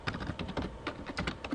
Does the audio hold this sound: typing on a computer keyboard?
yes